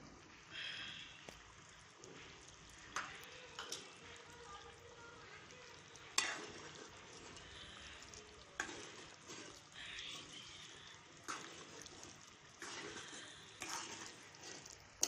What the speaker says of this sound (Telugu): రెండు నిమిషాలు అలాగే బాగా తిప్పేసుకొని